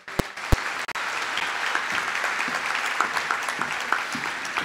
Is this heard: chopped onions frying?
no